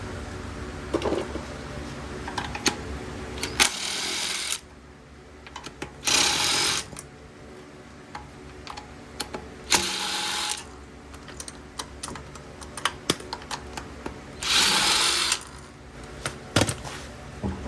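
A ratchet and socket work the lug nuts off an Audi Q7 wheel in a garage, with four short bursts of rapid clicking rising over a steady background hum.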